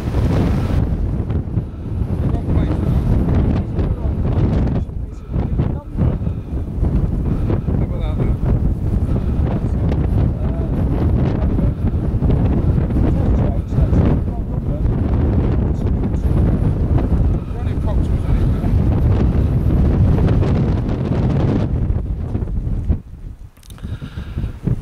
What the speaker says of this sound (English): there may be a little bit of audio break up on this because it's quite breezy